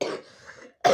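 A person coughs indoors, two short harsh bursts separated by a brief quiet gap.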